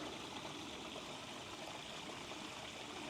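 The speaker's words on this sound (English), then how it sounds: "I can hear some gray water coming down" Gray water drains from an RV holding tank through a gate valve as a steady, even rushing trickle. It is faint, continuous and unbroken, with no voices.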